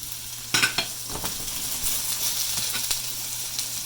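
Home-fried potatoes sizzle steadily in a single layer in a pan, with a few sharp scraping clinks as they are flipped, close and fairly loud.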